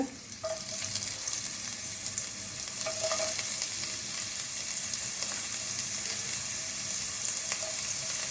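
Chopped chilies, garlic and onions frying in two tablespoons of oil for cabbage Manchurian. A steady, close sizzle runs throughout, with occasional stirring scrapes and no talk.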